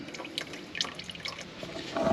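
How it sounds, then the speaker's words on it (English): Engine oil dribbling from a car's loosened drain plug, a faint, irregular patter of small drips and trickling liquid, close by, with no talk. "So slowly undo that till the oil starts to dribble out."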